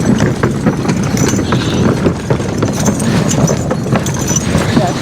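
Draft horses pulling a sleigh and three-tiered roller through snow on a trail, their hooves giving a steady rapid clip-clop with creaks and rattles from the rig, close and loud, with voices talking over it.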